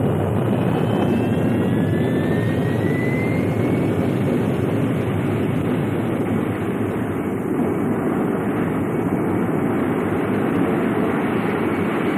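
Loud, steady roar of a simulated spacecraft lifting off for a trip around the moon, a sustained broadband engine rumble filling the whole stretch with a faint rising whine early on.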